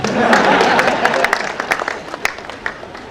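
Dense applause from an audience at a book launch in Surat, Gujarat fills the opening, then thins into scattered individual claps toward the end.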